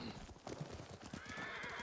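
Horses clip-clop and whinny in the samurai video game Ghost of Tsushima, with a dense, continuous bed of hoofbeats and game sound running throughout at moderate distance.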